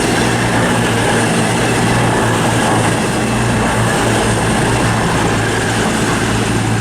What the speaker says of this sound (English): we couldn't film Reading West without at least one Voyager coming through. So here it comes